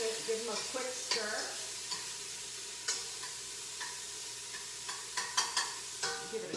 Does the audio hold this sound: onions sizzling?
yes